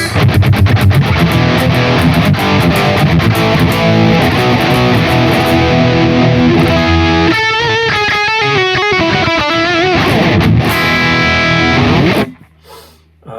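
Heavily distorted electric guitar through a Fractal Axe-FX III amp modeler, JVM OD1 Orange amp model, chugging chords and riffs, loud and saturated, with a brief melodic lead passage before the tone cuts out.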